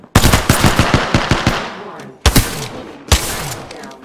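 Apex Legends gunfire, loud and close: a rapid string of automatic shots, then a pause, and two more separate heavy blasts that ring out and decay, with some voice underneath.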